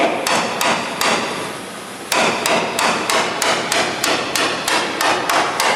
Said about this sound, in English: I've run that screwdriver right up in there. Now just driving it down.